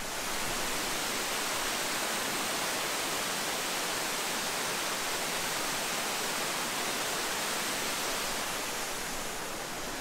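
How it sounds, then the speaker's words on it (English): Cochran Falls, a main waterfall tumbling down through a rocky landscape, roars as a dense, steady broadband rush of water, loud and unbroken throughout, with no voices. "I'll be able to get a nice viewpoint of the main waterfall coming down."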